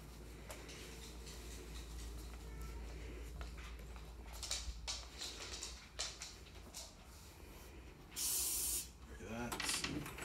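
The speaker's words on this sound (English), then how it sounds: "I'm gonna get the spray, get my towel." Cleaning spray misted onto a front door's handles, with a loud sustained hiss burst near the end and a shorter one after, under a steady background rumble and some talking.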